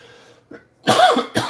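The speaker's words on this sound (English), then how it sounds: "Sorry for the coughing, guys." A small throat sound, then two harsh, loud coughs close to the listener, the second shorter than the first.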